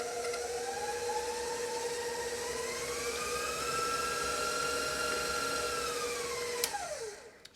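An electric hand mixer runs on low speed through powdered sugar frosting, a steady whirring motor hum with a tone that rises slightly mid-way, then winds down as it is switched off near the end.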